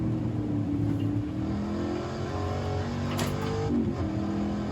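Sports car engine in the Assetto Corsa racing game, revving steadily with shifting pitch as it accelerates through a canyon road, loud and continuous with no talk over it.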